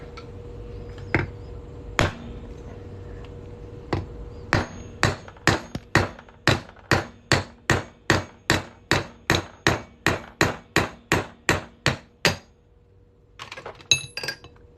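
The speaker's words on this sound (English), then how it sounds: "Move my phone out of the way and just try and hammer through it." A rapid run of sharp metallic hammer strikes on a punch through a 1974 Eisenhower dollar coin, about twenty evenly spaced blows ringing out one after another, with a few lighter taps before and after.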